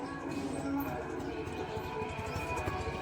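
A horse's hooves clip-clop in a steady rhythm on a road near a village temple, partly buried under dense background noise.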